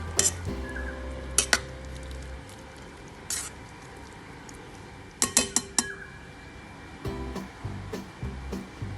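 A spoon scrapes and clinks against a pan while oregano herbs are stirred into pasta, sharp metallic taps coming in small clusters over a low background hum.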